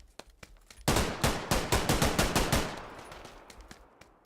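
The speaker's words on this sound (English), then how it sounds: "Lines up the AK shot." A rapid burst of AK rifle fire in a competitive video game match, a dense string of loud, close shots that rattles for under two seconds before decaying into fainter distant pops.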